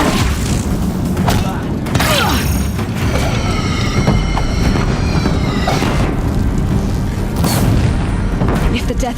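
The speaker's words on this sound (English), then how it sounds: "If the Deathbringers keep firing, this bridge will go." Deathbringer war machines firing at a bridge in Horizon Zero Dawn, heavy booming blasts and grinding mechanical rattles over a constant loud rumble, with repeated sharp impacts and whining metallic tones layered throughout.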